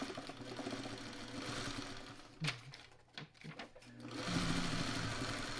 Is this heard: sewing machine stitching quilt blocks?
yes